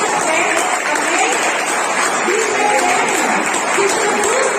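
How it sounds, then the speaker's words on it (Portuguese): A church congregation applauding together, a dense sustained wash of clapping with a few voices mixed into the crowd. "pode aplaudir ao Senhor, igreja"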